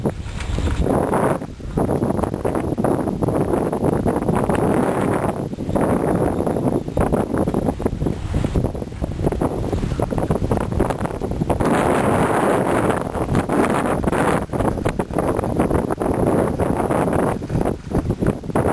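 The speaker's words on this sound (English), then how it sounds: "Sorry for the wind." Heavy wind buffets the microphone in loud, rumbling gusts that roar almost continuously, with brief dips between blasts.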